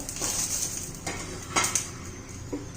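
Garlic and green chili frying in a pan for a spicy cluster-bean thecha, with soft sizzling under repeated metal spoon clinks and scrapes against the pan.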